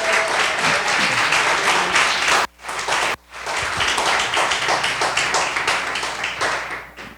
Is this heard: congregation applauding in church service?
yes